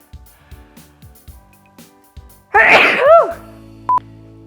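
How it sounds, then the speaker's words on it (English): A single loud sneeze up close, following a few soft thuds and clicks, then a brief high beep. "I'm gonna sneeze."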